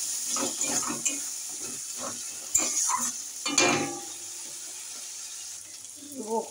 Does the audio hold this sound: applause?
no